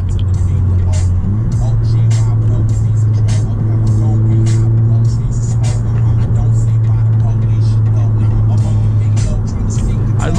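Audi A3 turbo cars, a 1.4 Turbo and a 2.0 Turbo, drive on a busy road with a loud, steady engine drone and a rising pull as they accelerate, and voices talk throughout.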